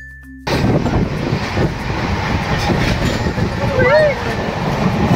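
Passenger train in motion heard from inside a carriage, a steady loud rumble with rattling after a brief quiet start, and a faint squeal near the end.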